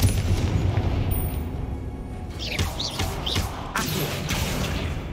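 In the Hogwarts Legacy video game, a Confringo spell explodes in deep booming bursts amid other crackling spell effects and high whooshing chirps, layered over a continuous dense game soundscape.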